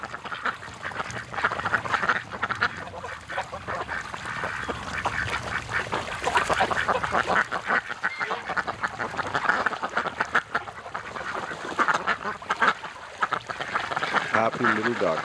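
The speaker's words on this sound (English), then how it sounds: "Happy little ducks." Female ducks quacking in winter, a flock calling loudly and nearby in repeated, overlapping bursts over about fifteen seconds, with goose-like honks mixed in and some human voice sound underneath.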